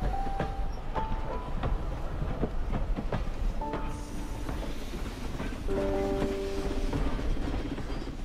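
A train rumbles steadily with rhythmic clanks and rail clatter, tonal squeals and hums rising at intervals over the continuous mechanical noise.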